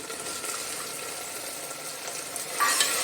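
Tomatoes go into a sizzling tadka in a pan while cooking a lentil and gourd dish, giving a steady broadband frying hiss with stirring, rising slightly louder near the end as the tomatoes hit the hot oil.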